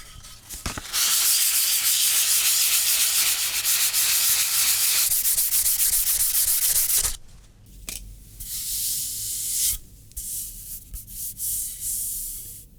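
Fine 400 grit sandpaper rubbing over oak wood, a steady close scratchy hiss for about seven seconds, then shorter, lighter strokes broken by brief pauses.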